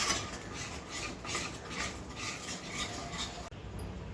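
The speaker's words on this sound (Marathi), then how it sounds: "आता आपल्याला हे एकसारखं हलवून घ्यायचं आहे, बिलकुल गोठळ्या नाही पाडायचे" A halwa mixture for Mahim-style halwa is stirred evenly in a pot off the heat, giving a continuous close rasping scrape with rhythmic strokes, no talking, ending abruptly.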